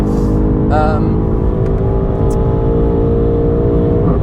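A BMW M8 Competition with 700+ hp driving on the Nürburgring, a loud steady engine drone from inside the cabin, constant throughout, with a brief voice near the start.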